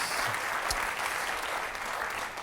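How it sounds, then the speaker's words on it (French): Studio audience of a French TV game show applauding a contestant's singing, a dense, even wash of clapping that stays steady and fairly loud for the whole stretch. "Je voudrais qu'on applaudisse Charlotte qui chantait, s'il vous plaît"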